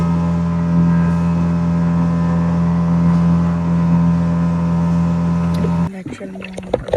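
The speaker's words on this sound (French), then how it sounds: "Le moteur il veut pas fonctionner." A small boat's motor drones steadily with a low, even hum for several seconds, then cuts out abruptly, leaving irregular knocks and faint sputters.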